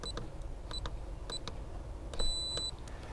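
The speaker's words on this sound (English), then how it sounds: "We got a long confirmation beep" A Carmtek electronic RV door lock gives a few short keypad beeps followed by one long confirmation tone, thin, high-pitched and close over quiet background.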